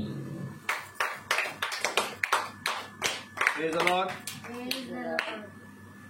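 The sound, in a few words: congregation clapping hands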